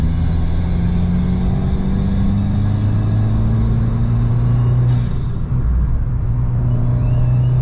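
A car engine fitted with a Forge induction kit drones and rumbles steadily while driving, pitch rising slowly as it pulls, with a faint airy whistle from the intake over the low engine note.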